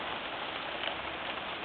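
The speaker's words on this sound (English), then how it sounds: "Hailstorm." Hail falls during a surprise hailstorm, an even, dense patter of stones striking surfaces that holds steady at a moderate level the whole time.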